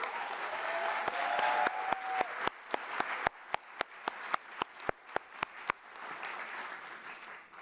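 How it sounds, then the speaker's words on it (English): Applause from a fall commencement crowd of journalism graduates, a soft rolling patter with a run of sharp, evenly spaced loud claps or knocks standing out near the front before the sound settles back into the wash. "Give yourselves a big round of applause"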